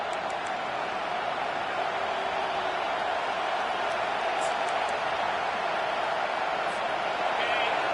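A home crowd roars steadily throughout in a football video game during a third-down defensive stand, a loud, continuous wash of cheering with no break.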